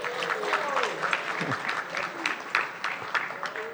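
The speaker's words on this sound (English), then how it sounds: "You're getting a bigger applause than I am." Audience applause greets First Lady Liza Araneta Marcos at a Vin d'Honneur reception: steady, moderately loud clapping from a crowd, with a voice speaking over it throughout.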